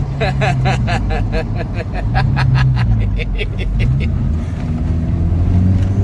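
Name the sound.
Toyota Hilux 2.7L 3RZ turbo four-cylinder engine revving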